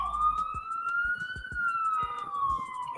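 Emergency vehicle sirens wail in a slow rising and falling sweep, steady and fairly loud, with low thumping noises scattered underneath.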